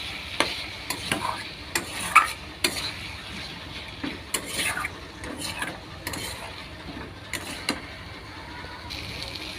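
Potatoes and spices being sautéed in a pan, with close scraping stirs and light knocks against the pan over a faint sizzle, spaced out in short irregular strokes.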